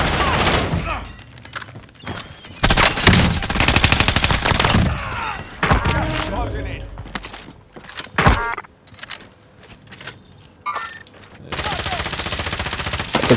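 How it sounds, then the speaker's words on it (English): An MG82 machine gun fires in a first-person shooter video game, loud rapid bursts of automatic gunfire in several separate volleys, mixed with other game sounds and excited player talk. "this MG82, bro, this thing is good"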